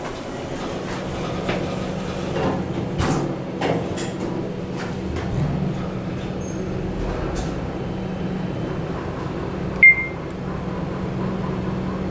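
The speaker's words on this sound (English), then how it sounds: "Slow door." Schindler 3300 machine-room-less elevator at a hotel, its door sliding slowly closed with a steady motor hum, a few clunks and rattles, and a short electronic chime near the end.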